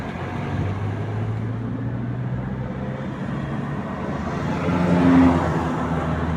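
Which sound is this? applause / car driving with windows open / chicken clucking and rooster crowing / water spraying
car driving with windows open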